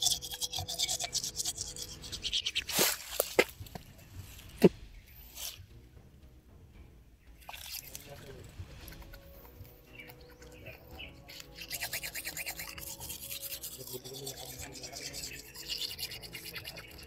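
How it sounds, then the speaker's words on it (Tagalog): Toothbrush brushing, a scratchy bristle scrubbing that comes in uneven bursts with a few sharp clicks, against a busy room background and with some faint talk. "Toothbrush na mo, Jay?"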